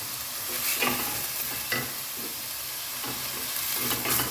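Onions frying in a pan, giving a continuous close sizzle broken by periodic stirring scrapes every second or so, with no voices.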